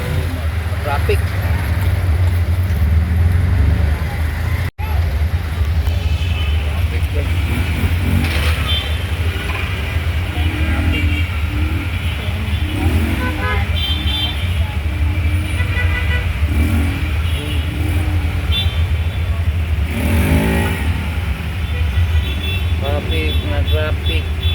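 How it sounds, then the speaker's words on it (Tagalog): Road traffic heard from inside a moving tuk-tuk in Bataan, Philippines, in the late afternoon: a steady loud engine and road rumble with passing vehicles and occasional horn toots, with faint voices at times. "Traffic."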